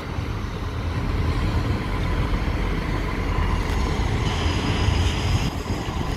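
Class 158 and Class 159 diesel units departing Clapham Junction station, a loud, steady engine rumble and rolling rail noise that holds evenly throughout, with a faint high whine near the end.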